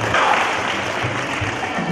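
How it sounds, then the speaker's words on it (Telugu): Audience applause at a college speech event in a hall, steady dense clapping filling the whole stretch at moderate loudness with no voices on top. "చప్పట్ల ద్వారా తెలియజేయండి"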